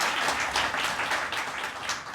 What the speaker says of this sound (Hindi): एक बार ज़ोरदार तालियां हो जाएं आप सबके लिए